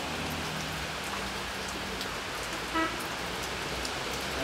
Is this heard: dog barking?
no